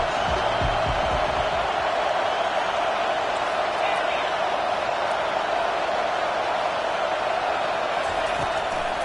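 A stadium crowd at a Clemson vs Notre Dame college football game roars in a steady, dense wall of cheering on a big third down, loud and unbroken throughout.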